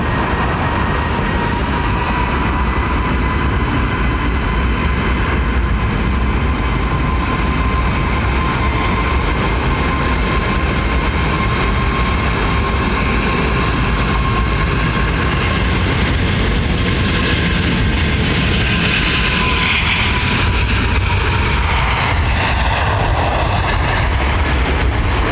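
Airbus A350 jet at London Heathrow Airport, a steady loud engine roar building through the takeoff roll with a broadband rush and a rising whine, with no talk.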